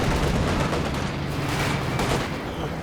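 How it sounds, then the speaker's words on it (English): Artillery strike from the Panzer Commander in Company of Heroes 2, a dense, continuous barrage of loud booming blasts and gunfire rumbling without pause for about three seconds, with no talking. "drops down the Panzer Commander artillery"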